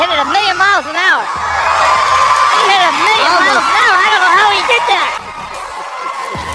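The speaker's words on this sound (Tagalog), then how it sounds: "Pumalakpak na lang at namangha ang mga banyaga sa galing ng tira ni Efren." Crowd of spectators cheering, whooping and shouting after an Efren Reyes pool shot, loud and sustained with excited voices throughout, fading slightly near the end.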